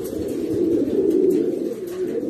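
A breeding pigeon, a stud male, coos steadily up close in a loft in Sagua, a continuous low throaty rumble with gentle rises and falls and no talking.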